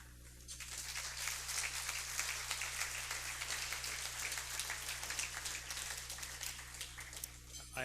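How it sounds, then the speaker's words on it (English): Sustained applause from a large audience fills the space, steady and even from start to finish over a low hum. "I wish he could hear your applause."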